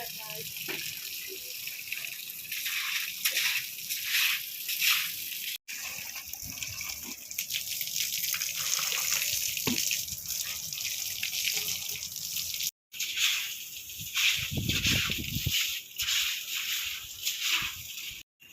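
Water runs steadily from a tap or hose on a terrace garden, a continuous gushing splash with slight sloshing changes, broken by a couple of brief gaps, with voices talking over it at times.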